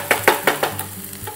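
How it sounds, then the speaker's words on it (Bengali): Rice frying in a pan while being stirred, five quick rhythmic scraping strokes over a gentle sizzle, close and fairly loud, then tapering off. "যখন আপনি চালটা এরকমভাবে নাড়াচ্ছেন মানে ঘাঁটছেন"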